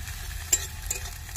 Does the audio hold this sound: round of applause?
no